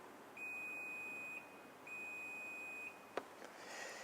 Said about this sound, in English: It will then make a beep.